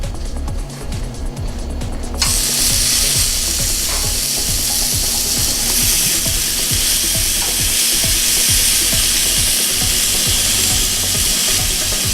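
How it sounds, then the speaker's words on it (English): Beef kebabs hit a very hot grill and burst into a loud, continuous sizzle that holds steady and close for about ten seconds, following a quieter moment with a few light clacks. "Got a very hot grill, ready to go. We're gonna sear these kebabs."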